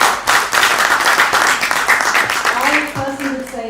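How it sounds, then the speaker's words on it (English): Audience applause for a panel at a women's empowerment event, a broad wash of clapping from a crowd that swells and then thins out toward the end, with a voice starting to speak over the last second. "please give our panel a big round of applause."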